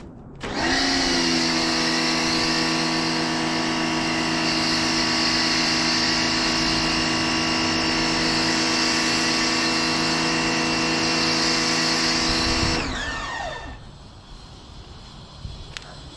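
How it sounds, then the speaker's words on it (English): A Titan 140 bar pressure washer sprays through an MJJC foam lance on a car, its motor and pump holding a loud, steady tonal drone for about twelve seconds before winding down and cutting off. "I'm also using a Titan 140 bar pressure washer"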